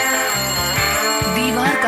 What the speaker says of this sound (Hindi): बहुत देर तक घंटी बजती रही।